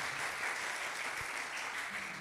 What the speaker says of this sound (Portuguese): Dê um aplauso a Ele em nome do Senhor Jesus